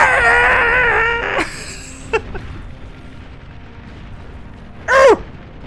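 A person imitates the noise of a Nurgling from the Beyond All Reason strategy game with a warbling, gurgly voiced sound, followed by a few clicks and a shorter second vocal burst, close to the microphone.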